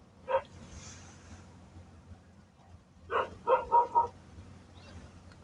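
Several dogs bark outdoors at a moderate distance, one short bark followed after a pause by a quick burst of four or five barks against a low background rumble.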